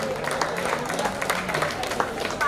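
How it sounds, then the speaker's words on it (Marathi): An audience at a prize ceremony for a Lalbaug premier league claps in a dense, even patter that carries on steadily, fairly soft, with voices mixed in. "मित्रांनो टाळ्या वाजू द्या"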